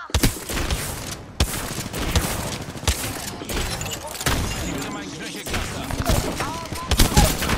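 Rapid bursts of Apex Legends gunfire crackle in quick succession, sharp and loud, with a voice talking over the shooting.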